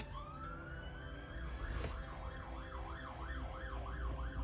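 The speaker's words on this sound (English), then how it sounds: "2 fire engines." Fire engines pass along a busy main road with a wailing siren that rises and falls in a steady cycle, growing louder as the truck comes by, over a low rumble of traffic.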